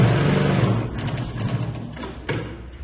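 A Mauser Spezial 2645 heavy-duty leather sewing machine runs continuously, its rapid, chunky mechanical thumping up close as the needle punches through leather.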